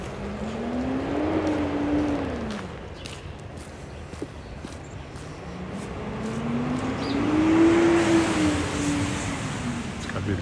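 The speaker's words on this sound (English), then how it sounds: "It's got to be the garbage truck." Heavy vehicle, taken to be a garbage truck, on a city street on a spring morning in Regina, rumbling past in two loud swells, the second nearer and louder, with engine drone and steady street noise throughout.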